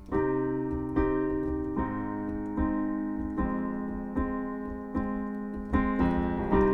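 Piano chords from the verse of a song played in a steady rhythm, each sustained a moment before the next, with a low bass line underneath; no voices.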